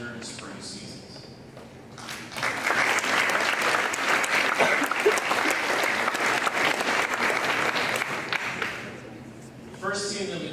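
Audience applause at a school board legislative meeting, a sustained burst of clapping that starts after a speaker's voice, holds steady for several seconds, then fades as speech resumes.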